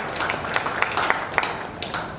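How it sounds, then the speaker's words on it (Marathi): Audience applause for a young girl reciting her poem at a children's poetry gathering, a steady patter of many hands clapping at moderate distance, with scattered sharper individual claps standing out. "धनश्रीसाठी जोरदार टाळ्या."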